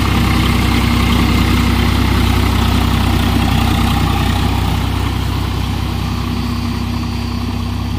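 Swaraj 744 XT tractor engine running at 1400 RPM in low third gear while pulling a rotavator through a field, a steady loud low diesel drone throughout with no talk.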